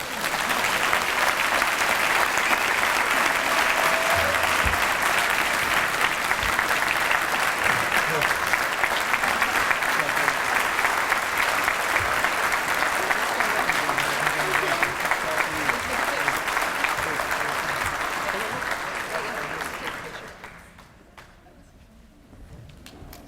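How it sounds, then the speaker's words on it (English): Sustained audience applause at a Red Cross heroes breakfast, a broad crowd of steady clapping that keeps going at full strength for a long stretch, then fades out near the end. "After all the applause"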